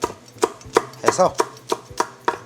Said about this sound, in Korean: 대파 한 대는 어서 썰어 줄게요